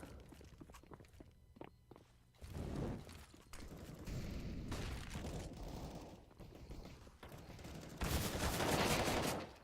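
Gunfire in a tactical video game round, with bursts of shots and muffled booms mixed with footsteps, rising to a dense, louder volley near the end.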